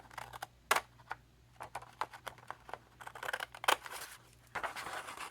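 Scissors snipping a magazine page into a thin strip for crafts, a quiet run of short, sharp clicks and crisp cuts in uneven bursts, close up, with no talking.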